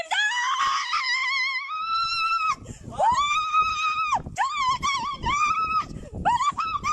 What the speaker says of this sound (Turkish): bir kadının iki farklı kamerayla kayıt altına alınmış acı çığlıklarını izleteceğim